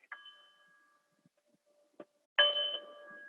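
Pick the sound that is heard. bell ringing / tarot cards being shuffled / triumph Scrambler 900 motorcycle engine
bell ringing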